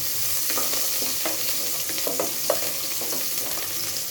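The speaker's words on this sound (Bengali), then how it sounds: "এদিকে তেলটা গরম হয়ে গেছে, এখন পেঁয়াজ দিয়ে দেব" Onions frying in hot oil in a pot make a loud, dense, unbroken sizzle with scattered crackles and small stirring scrapes throughout.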